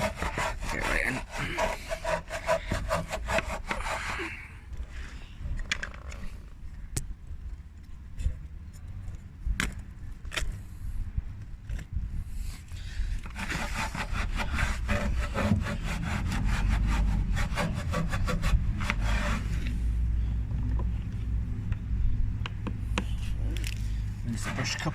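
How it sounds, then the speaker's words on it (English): A stiff brush loaded with wheel shampoo suds scrubs a car wheel, giving a steady, close rasping and rubbing that repeats in quick strokes for the whole stretch, with a voice heard faintly at times. "So your brush is only just going to drag across when you clean it."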